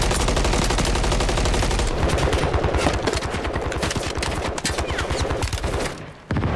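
Rapid machine-gun fire in Call of Duty Warzone on the Urzikstan map rattles loud and near as dense, continuous bursts of shots that run almost the whole time before ending abruptly. No one speaks.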